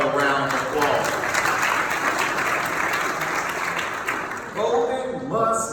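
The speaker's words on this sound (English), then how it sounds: "Give him another round of applause." An audience at an MLK commemorative service breaks into sustained applause, a dense wash of clapping throughout, with a speaker's voice cutting in briefly over it toward the end.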